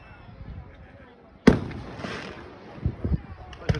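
Fourth of July fireworks in Gouverneur, New York: one loud, sharp burst booms out, followed by a few smaller distant pops, with voices murmuring in the background.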